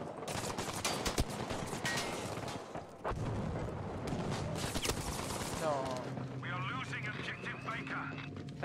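Rapid bursts of gunfire in the video game Battlefield V crackle in volleys under excited talking, with a whining engine-like hum near the end.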